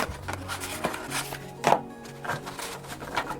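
Riffle shuffling of a pocket-size Italian tarot deck, heard as a series of soft, close papery card riffles and taps at intervals, with a sharper burst in the middle and no talk.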